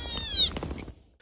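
A stray kitten suffering from the cold on a snowy day gives one clear, high meow that fades into a few faint rustles, close and alone.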